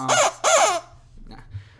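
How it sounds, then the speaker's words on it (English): Two loud, close squawks from a rubber chicken in quick succession, each a strained, wheezing honk, followed by quieter rustling and faint background noise. "he's got a rubber chicken that is also dressed like a pirate with a peg leg"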